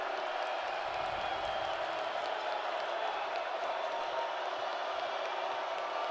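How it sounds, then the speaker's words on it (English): An Idaho Vandals home football crowd roars steadily on a third down against Utah Tech, a broad distant wash of cheering and noise with no distinct peaks, while a voice talks over it. "It'll bring up third down as the Vandal crowd trying to get into it."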